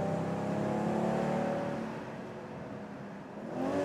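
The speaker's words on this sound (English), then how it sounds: "And you literally feel how smooth this engine is operating." A BMW M440i or Audi S5 convertible engine pulls hard on acceleration, a smooth sustained roar that eases briefly and then builds again, heard from inside the car with no talking.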